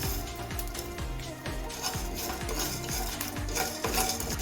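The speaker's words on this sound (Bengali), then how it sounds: "এখন আমি সব কিছু বেজে নিচ্ছি বাজা মশলা তৈরি করার জন্য" Whole spices being dry-roasted in a pan for a roasted spice mix, with a steady rhythmic scrape of a spatula stirring and a faint crackle underneath.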